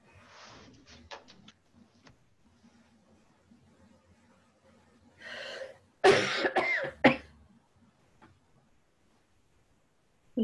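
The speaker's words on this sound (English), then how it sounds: "Good elbow cough." A cough into an elbow during a town council meeting, a short burst of two or three muffled coughs near the middle of a quiet room, with faint rustling and small knocks around it.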